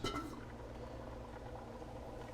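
Chana masala simmering in a pot gives a faint, steady low bubbling with soft liquid sounds and a brief light clink near the start, with no one talking.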